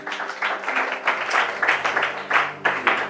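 Church congregation applauding and cheering during a French Bible teaching session, a steady wash of clapping with swelling bursts, sustained and fairly loud throughout.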